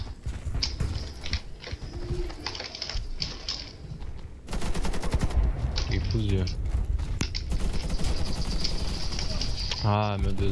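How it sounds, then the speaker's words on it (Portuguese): Gunfire from two players in a Warface clan war match: sparse shots early on, then dense, loud, rapid automatic bursts from the middle onward, with voices talking over the shooting. "dois caras atirando"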